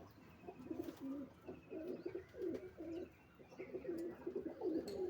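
Pigeons coo in soft, repeated rolling phrases, several birds overlapping at a moderate distance, with faint background hum.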